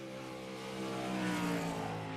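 The black number 97 race car running a lap of a 305 sprint car event, its engine a steady harmonic roar that swells louder midway as it nears, with no talk over it.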